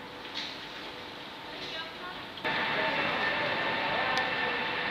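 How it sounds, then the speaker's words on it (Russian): A double-decker train approaches a station in the rain, its steady rumble swelling abruptly louder midway and holding at a broad, continuous roar, with brief faint talk early on. "Ой, я слышу приближение поезда."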